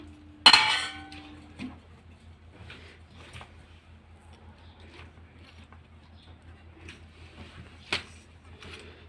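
A spoon stirs tomatoes and peppers in a metal pan: a sharp clatter at the start, then quiet scattered scrapes and a few clinks, with another metallic knock near the end.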